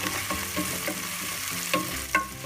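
Tomatoes stirred and frying in a pan make a continuous close sizzle with soft, irregular scraping strokes and a couple of louder clatters near the end. There is no speech.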